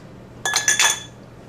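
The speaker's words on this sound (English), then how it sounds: "I put some ice cubes in each one of these." Ice cubes dropping into cocktail glasses while making mojitos, a quick cluster of three or four bright, close glassy clinks, then quiet.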